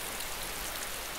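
Steady, dense rain hisses without pause in the video game DayZ, a loud even wash of falling drops with no talk.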